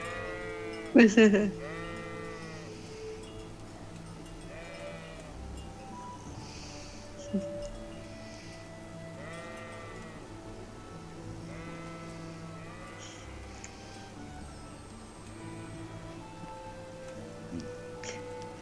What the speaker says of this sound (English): it's your favorite animal, the sheep